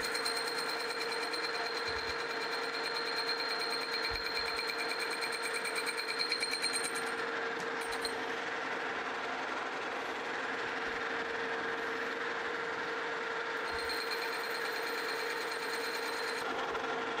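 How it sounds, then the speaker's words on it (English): A metal lathe turning and truing the outside edge of a cast iron wheel for an antique vise cart, a steady faint machine hum and whine with occasional soft knocks, no talking. "I'm just going to go ahead and turn this outside edge a little bit too."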